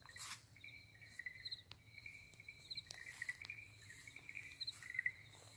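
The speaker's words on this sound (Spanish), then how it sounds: "Un grillo y el otro." Crickets chirp outdoors at night in repeated high, thin trills, fairly faint against a quiet natural background with no talking.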